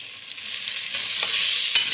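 Turnip and beetroot fry in oil with green onion, a soft steady sizzle with light stirring scrapes and one sharp clink near the end.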